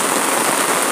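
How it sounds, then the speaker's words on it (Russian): Heavy rain pours down in a dense, steady roar that fills the whole moment, with no talking. "какой дождина страшный"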